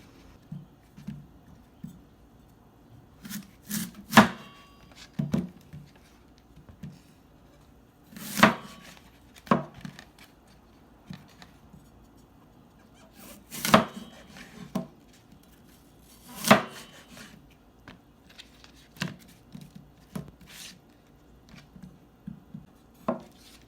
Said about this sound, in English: Now cut the apples into wedges.